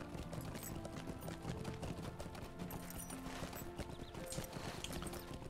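Horse hooves clip-clop steadily while riding through Lord of the Rings Online, a fast even gallop rhythm mixed over continuous game music and ambience, with no talk.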